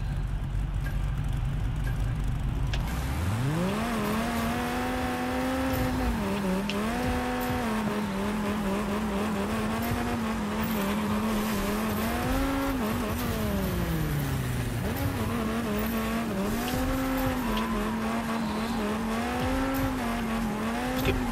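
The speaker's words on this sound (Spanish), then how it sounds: "Pero como suena el coche" Car engine in a Fortnite racing mode, a loud, sustained revving drone that rises and dips as the car accelerates and shifts, with occasional tire noise, no talking.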